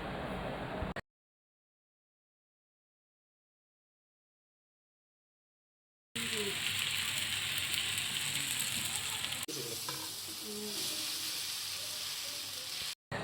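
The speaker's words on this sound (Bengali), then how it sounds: "স্প্যাগেটি যেটা আমরা সেদ্ধ করে রেখেছিলাম সেটা অ্যাড করে তারপর এটাকে আমরা সুন্দর করে রান্না করে নিব" Boiled spaghetti tossed into a hot pan for chow mein crackles and hisses in a dense close sizzle, broken by a long stretch of dead silence before the frying noise resumes.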